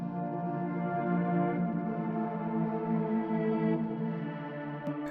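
A sustained, dark synth pad one-shot sample without a filter, built in FL Studio with a halftime effect and high-pass EQ, holds a steady layered chord that swells gently for several seconds before a faint click at the end.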